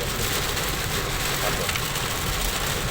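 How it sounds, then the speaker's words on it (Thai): Heavy rain drums on a moving car during a driving lesson, a dense, unbroken hiss that stays loud and even from start to finish. "ตกจริงๆผมตกหนักด้วยนะครับผม"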